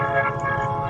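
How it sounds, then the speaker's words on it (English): A train sound effect plays in a tabletop fantasy game session, a sustained tonal horn-like chord with a low rumbling undertone, brief and fairly loud. "You guys hear a train."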